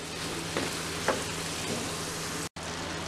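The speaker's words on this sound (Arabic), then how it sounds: "بعد كده هنحط اللحمة وهنقلبها كويس" Meat with minced garlic sizzles steadily in a pan, with a couple of soft stirring scrapes over the constant frying hiss.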